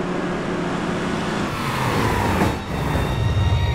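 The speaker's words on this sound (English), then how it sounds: "Crap, it's a car!" A vehicle engine drones steadily in the game Halo: Reach, a continuous rumbling motor that swells slightly toward the end, heard alone without voices.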